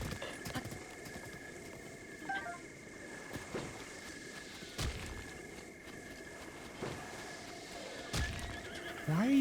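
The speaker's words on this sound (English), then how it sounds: "All right, let me get back on my horse." A horse whinnies a few times in the Breath of the Wild video game, with clip-clop hoof sounds and a faint outdoor ambience. No one talks.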